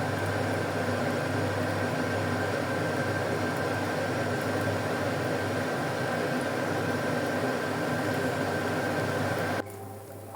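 A jowar dosa sizzling in oil on a pan, a steady, loud, hissing frying noise that stays even and continuous before dropping off abruptly at the very end.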